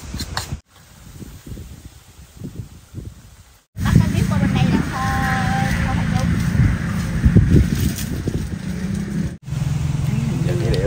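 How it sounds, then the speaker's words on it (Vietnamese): Strong gusts batter the microphone at an outdoor home kitchen in Vietnam, where pork is being cooked. Loud, roaring broadband buffeting fills most of the clip after a brief quieter stretch, with people talking over it. "bữa nay gió ầm ầm luôn"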